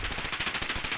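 Rapid automatic gunfire in Call of Duty: Modern Warfare, a steady string of about a dozen evenly spaced shots at moderate loudness with no voices.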